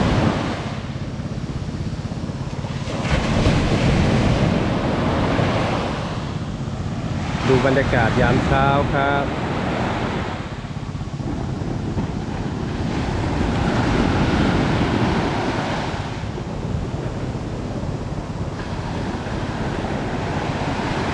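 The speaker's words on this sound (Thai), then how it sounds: "คลื่นค่อนข้างแรงครับเมื่อคืนนอนฟังเสียงคลื่นเพลินเลยครับ" Strong sea waves roll onto a beach at a campsite in Sattahip, Chonburi in the early morning, a steady loud surf wash with wind noise throughout while someone speaks briefly over it.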